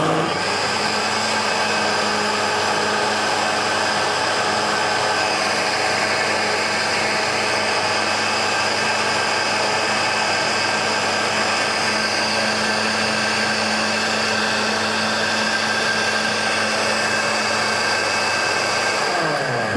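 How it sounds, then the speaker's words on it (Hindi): A juicer blender whirs steadily as it mixes a strawberry milkshake, a loud continuous motor drone with a constant whine that holds for the whole stretch and shifts slightly near the end, with no voices over it. "इसको स्टॉप करेंगे, अगेन एक दफ़ा करेंगे ताकि ये अच्छे से जूसर में मिक्स हो जाए।"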